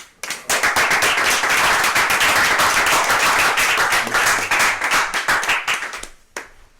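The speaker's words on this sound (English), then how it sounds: "Ashe, can we give everybody in here a round of applause?" A room full of people at a live storytelling show breaks into loud, dense applause, a sustained wash of clapping that swells quickly, holds strong, then tapers off with a few last claps.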